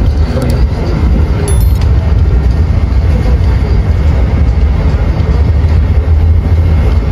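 Jayabaya passenger train pulls out of Surabaya Gubeng station with a loud, continuous rumble and rolling clatter heard from on board, and no voices.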